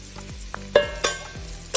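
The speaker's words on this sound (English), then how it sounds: "So now we're gonna go right in with our garlic." Garlic tipped into a pan of softened vegetables for chicken noodle soup, giving a few sharp sizzling bursts and stirring scrapes over a steady low frying hiss, close and fairly quiet.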